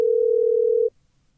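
A single steady telephone tone sounds while a phone call connects on a Korean radio program, holding loud and even for just under a second before cutting off into near silence.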